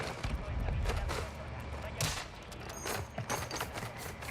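Rapid bursts of automatic gunfire and explosions from a Call of Duty Warzone (Modern Warfare II) match crackle in quick succession, fairly faint, with players talking over the shooting.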